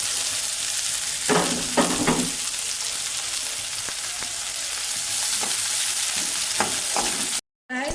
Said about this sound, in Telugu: ఆనియన్స్ చిల్లీస్ రెండు ఒకేసారి వేసుకున్నా ఏం ప్రాబ్లం లేదు, మంచిగా ఆయిల్లో ఫ్రై అయిపోతుంది